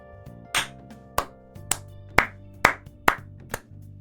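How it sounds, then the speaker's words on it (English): Eight sharp, separate hand claps spaced roughly half a second apart over a sustained musical tone, loud and close, with nothing else alongside them. "nothing but applause"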